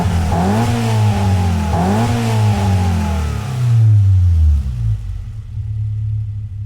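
A Mercedes 190E 2.5-16 Evolution in Gran Turismo 7 revs repeatedly, its engine note climbing and falling in quick bursts before a longer deep pull that settles into a low rumble.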